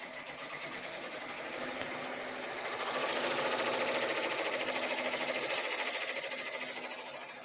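A home embroidery machine stitches out a heart design on a baby onesie, its needle running in a fast, steady mechanical patter that swells slightly midway and holds constant throughout, close and with no talking.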